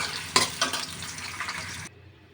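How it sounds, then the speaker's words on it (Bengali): Onions frying in oil and ghee in a large wok, with a loud sizzle broken by a few sharp stirring scrapes, before the sound cuts off abruptly near the end. "আমি এখন এই প্রথমে পেঁয়াজের বেরেস্তা বানিয়ে নেব।"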